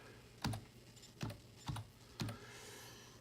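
Four separate keystrokes typed on a computer keyboard while entering a search in a browser address bar, each a sharp close click with a soft thud, spaced unevenly against a quiet background.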